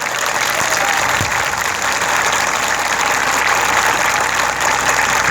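Audience applause at a martyrs' honour ceremony in Seoni Malwa, a steady wash of many hands clapping that stays loud and continuous throughout, with no speech over it.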